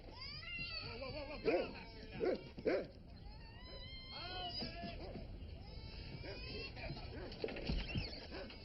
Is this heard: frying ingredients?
no